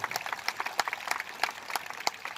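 Applause from an audience at a Hindi comic poetry gathering, quick scattered claps of moderate loudness that go on steadily without letting up.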